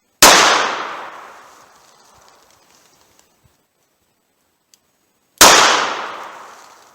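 Two loud, close .38 Special shots from a 686 revolver loaded with 170 gr Keith semi-wadcutters, fired at an outdoor range about five seconds apart, each sharp crack followed by a long decaying echo.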